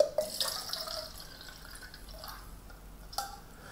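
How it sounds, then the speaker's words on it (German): Water poured into a cylinder in a classroom demonstration, heard as a short splash and trickle with a few drips and a small glassy clink, fairly close and without talk. "Und dieses Wasser gieße ich jetzt in den Zylinder hinein"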